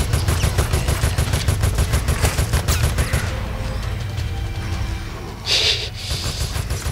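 Rapid gunfire from Resident Evil Operation Raccoon City rattles loud and close in a dense automatic burst, then thins out with a later sharp blast.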